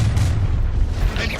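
A Confringo explosion spell cast in Hogwarts Legacy, a deep booming blast with a heavy low rumble that fills the whole short moment, loud and close.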